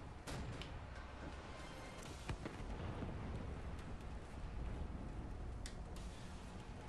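A zeppelin being shot down and exploding in Wolfenstein: The New Order: a dense, steady roar of artillery-like blasts and rumbling explosions with a few sharper cracks, fairly distant and without talk.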